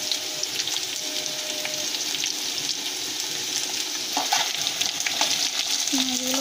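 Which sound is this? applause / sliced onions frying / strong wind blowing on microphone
sliced onions frying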